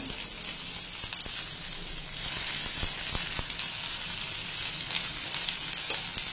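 Beans, carrot, capsicum and cabbage fry in oil in a pan over a medium flame for Schezwan fried rice, a steady close sizzle that grows louder midway as more vegetables go in, with occasional stirring scrapes and no talking.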